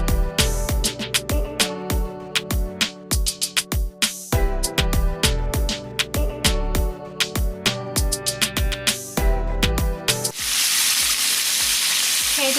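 Chicken pieces for orange chicken sizzle in hot oil, loud and close, with rhythmic clanks of a utensil stirring the batch; the clanking stops near the end, leaving a bright, steady hiss of frying.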